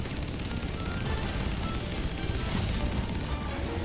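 Gunfire in the Final Fantasy XIV video game, a dense and continuous clatter of shots and impacts with a sharper burst near the end, heard loud and close with no talking.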